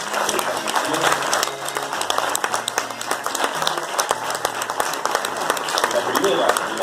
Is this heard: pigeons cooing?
no